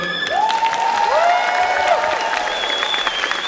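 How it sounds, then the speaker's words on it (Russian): Loud, steady applause from an award ceremony crowd fills the clip, with rising and falling whistles over the continuous clapping. "режиссеру Виталию Федянину отдельные аплодисменты."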